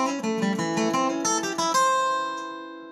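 A bluegrass flatpicked acoustic guitar lick, from a solo, plays alone as a quick run of bright, clear picked notes that ends on a ringing, sustained note.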